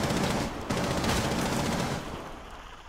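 Rapid automatic gunfire in Rainbow Six Siege, a dense burst of rattling shots that runs almost continuously, with a sharp jump in intensity partway through and a slight fade at the end.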